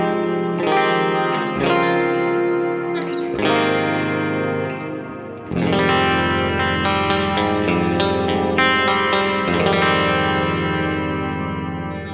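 Jackson Josh Smith SL7 Soloist electric guitar in the middle pickup position with the neck pickup rolled off, leaving only the bridge humbucker's inner coil. It plays sustained, distorted chords and notes with chorus, echo and reverb, loud and continuous, with no talk.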